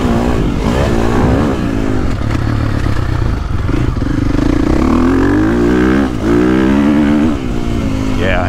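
A 2022.5 KTM 450SXF Factory Edition motocross bike engine pulling hard down a straight, with a loud, close, continuous roar and rising and falling revs throughout.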